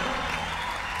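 Brief crowd applause at a live concert at the Jesús María Festival, a short dense burst of clapping from a large audience at moderate level.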